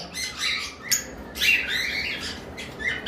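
Caged lovebirds and cockatiels at a bird sale squawk and chirp in sharp bursts, several calls overlapping near and loud, with no one talking.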